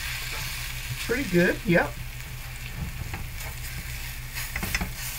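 Pork loin country-style short ribs browning in a hot pan give off a steady, close sizzle that runs throughout, with brief talk layered over it.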